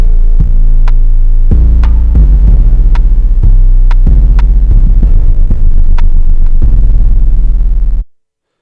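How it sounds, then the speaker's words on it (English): Deep synthesized bass from a dancehall riddim plays a series of punchy, sustained notes in a rhythmic pattern, loud and alone with no voice, before cutting off abruptly near the end. "So this is what the bass sound like now."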